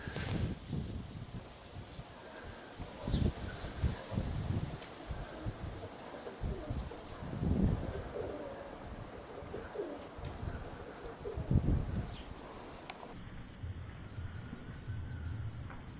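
Outdoors, roller pigeons fly while gulls harass them. Pigeons coo softly, a short run of repeated bird calls comes from farther off, and wind buffets and rumbles steadily throughout.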